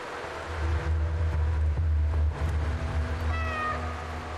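Cats meow in the video game Stray, with one clear, rising meow near the end over a steady low rumbling ambience.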